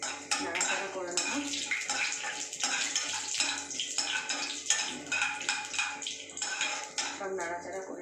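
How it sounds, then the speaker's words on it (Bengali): Asafoetida and dal being stirred in a metal cooking pot on a gas stove, with continuous clinking and scraping of utensils against the pot throughout, close and fairly busy, with some faint watery sounds. "এবার আমি একটু নাড়াচাড়া করে নেব।"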